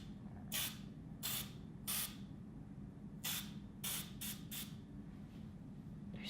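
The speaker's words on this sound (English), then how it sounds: "There's so much oil spritzing everywhere." Short bursts of aerosol cooking oil spray hiss one after another over kale leaves, about eight quick sprays at uneven intervals over a quiet background.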